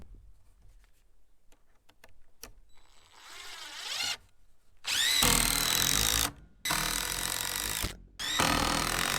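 A power drill drives exterior screws into 2x6 wood blocking for a pole barn with a metal roof. Light handling knocks come first, then three loud, close bursts of whirring drill separated by short pauses, with no talking.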